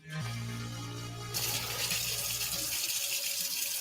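Water gushes from a tap while oven racks are hand washed, a steady rush that grows brighter and fuller partway through, with no voices.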